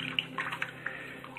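Metal-detecting finds, including broken jewelry, being given a final rinse in water, with soft splashing and sloshing and a few small clinks of objects close by.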